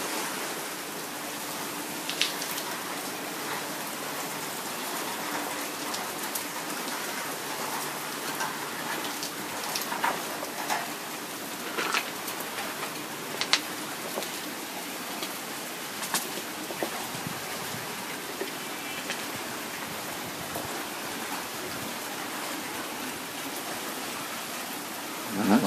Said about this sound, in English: the intensity of the storm is easing off a bit, as you can hear